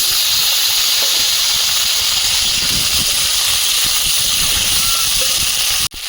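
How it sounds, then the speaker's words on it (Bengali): Black cumin and slit green chilies sizzle in hot oil in a wok, a loud, steady hiss that runs unbroken for several seconds before cutting out abruptly near the end. "কড়াইতে তেল দিয়ে দিচ্ছি কালো জিরে চেরা কাঁচা লঙ্কা"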